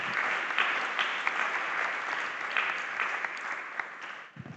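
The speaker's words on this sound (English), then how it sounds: "Let us again give a round of applause to our excellent speakers." Symposium audience applauding its speakers at the close of a session: dense, sustained clapping from a full room, steady throughout and thinning only at the very end.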